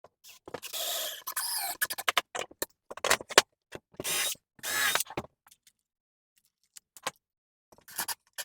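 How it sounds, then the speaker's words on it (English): Metal clamp being ratcheted tight while assembling a portable plywood router table and fence, a series of close, crisp clicking and rasping bursts broken by silent gaps. "I'm going to clamp down again."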